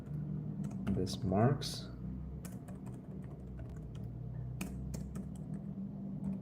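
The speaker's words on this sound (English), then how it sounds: "let's do a quick test here of the keyboard. See, I'm typing in" Typing on a ThinkPad X13 Gen 1 laptop keyboard: a run of crisp, close key clicks in an irregular rhythm, with a brief burst of several quick taps, while someone speaks briefly.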